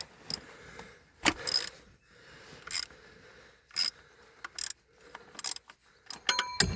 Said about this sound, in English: Got that broken loose with the wrench.